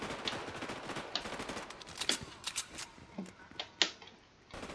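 Rapid bursts of Fortnite gunfire crackle in uneven volleys, with sharp single shots standing out over a busy, noisy background.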